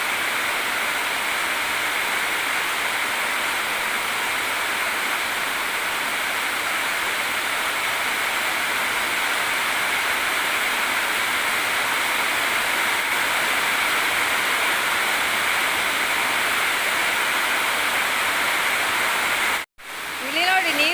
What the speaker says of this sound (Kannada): ಇಲ್ಲಿ ನೋಡಿ ನೀರು ಹತ್ರ ಬಂದಾಯ್ತು. ಎಷ್ಟು ರಭಸದಿಂದ ಬರ್ತಾ ಉಂಟು ನೋಡಿ